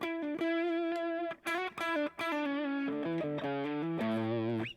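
Electric guitar run through a Zen Drive overdrive pedal, a Helix double-amp patch, plays sustained overdriven chords and notes with mild, not-too-dirty distortion, loud and alone, with brief gaps between phrases.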